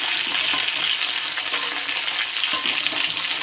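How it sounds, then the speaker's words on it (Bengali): Cauliflower and potato curry frying in a pan gives off a loud, steady hiss and crackle, with a few brief sharper spits near the middle, and no voices. "ফুলকপি আলু দিয়ে একটু তরকারি করছি"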